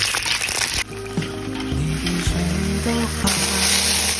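Wild morel mushrooms, cut in halves, fry in a wok with steady, close sizzling and crackle, with a few stirring scrapes and a quiet voice over the top.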